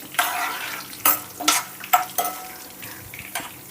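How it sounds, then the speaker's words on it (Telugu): Mustard-seed tempering spices crackle and sizzle in hot oil in short, sharp bursts, with a spoon stirring the pan between them; no voices. "ఇప్పుడు వీటన్నిటిని స్టవ్ సిమ్లో పెట్టుకొని బాగా ఫ్రై చేసుకుందాం."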